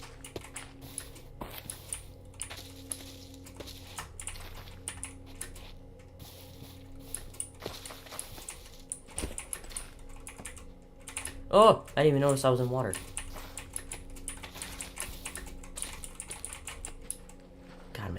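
A computer keyboard is typed on in irregular, close clicking bursts over a quiet room tone, and a short spoken exclamation cuts in midway.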